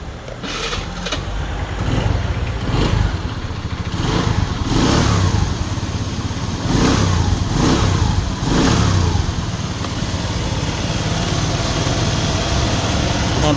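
A 2014 Kawasaki Curve motorcycle engine runs loud and close, revving repeatedly in rising and falling bursts over a steady idle, with no talk.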